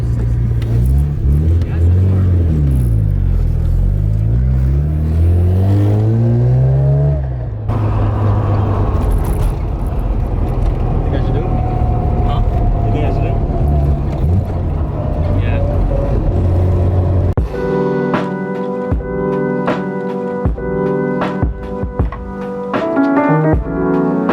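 A Mazda RX-7 FC GTU revs and pulls under load from inside the cabin, engine pitch sweeping up and down with a steady transmission whine, while occupants talk loudly over it.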